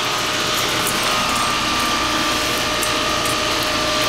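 A new Trane XL15i 4-ton heat pump runs in cool mode outdoors, giving a steady, close, loud mechanical whir with a constant tonal hum and no breaks.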